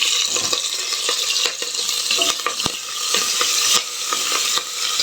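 Onions and curry leaves fry in oil in a pan for a radish dal sambar, a loud, close, continuous sizzle punctuated by scraping stirs and occasional clinks of the spoon against the pan.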